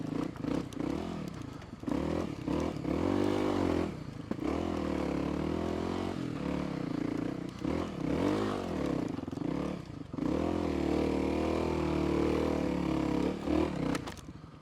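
Kawasaki KLX 300 dirt bike climbing a steep trail, its engine revving and bogging in repeated surges, close and steady with brief throttle dips, no talking.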